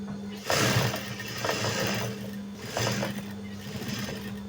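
Sewing machine joining a shirt collar to the body, running in short loud bursts with pauses between, a steady hum underneath.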